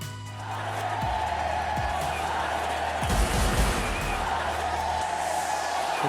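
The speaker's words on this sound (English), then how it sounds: "You can hear the crowd screaming for their favourite, the little master." A large cricket stadium crowd roars continuously for Sachin Tendulkar on his 52nd birthday, a dense, steady wall of distant screaming and cheering that swells slightly midway, with low thuds and rumbles beneath.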